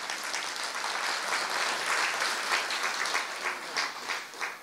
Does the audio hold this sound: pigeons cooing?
no